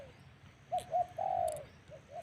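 Birds calling outdoors, several short cooing notes from a single bird, moderately close and clear over a quiet background.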